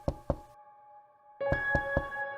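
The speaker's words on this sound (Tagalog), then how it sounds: "kaagad niyang kinatok ang unit ni Maria" Knocking on an apartment unit door: two sharp raps, a pause, then three more firm knocks, close and loud over a steady humming tone.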